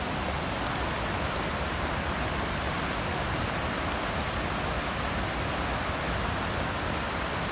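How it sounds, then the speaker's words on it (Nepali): The swollen Chhakalung river in Khotang, Diktel, roars past in flood, a steady, loud, unbroken wash of rushing water that holds constant from start to finish with no one speaking. "उदै खोला बढेको छ"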